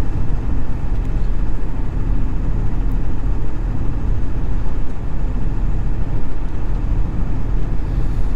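A Ford Powerstroke 6.0 diesel truck engine with its emissions system deleted runs steadily at idle, a loud even low rumble heard close and continuous.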